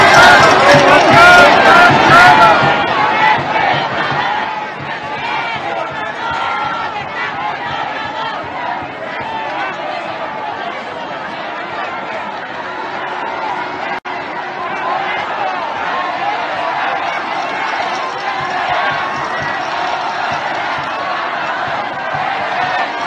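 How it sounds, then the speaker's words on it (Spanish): A large indoor crowd of Mexican business leaders roars and claps loudly for the president at first, then settles into a steady wash of applause and chatter that continues throughout. "vamos a ver cómo reciben ahora sí entre aplausos al presidente López Obrador"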